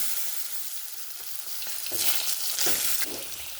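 Potatoes tipped into hot mustard oil already seasoned with dried chilli and five-spice after frying bata fish, a soft steady sizzle that swells into louder bursts of crackling and stirring midway.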